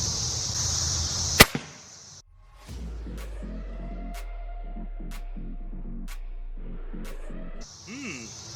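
A single sharp, loud impact cracks out early as a heavy air rifle pellet hits a clay block, followed by a lower rumbling hum with faint ticking.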